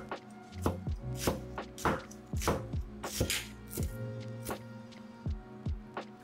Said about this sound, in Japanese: 今日はみょうがも切ろうと思います。